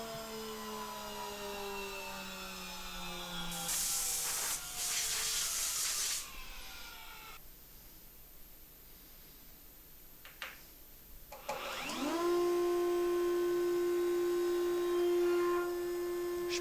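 Hot pin router cutting wood for a guitar neck, a steady whining motor drone with shifting harmonic tones, a rough cutting burst partway through, then the router spinning up again to a sustained high pitch.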